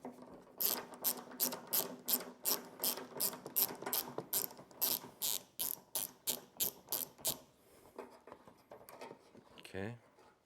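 A ratchet clicks rapidly in a long rhythmic series while loosening a 10mm bolt on a Chevy truck headlight assembly, close and crisp, then stops before a brief clunk of the part shifting; someone talks quietly.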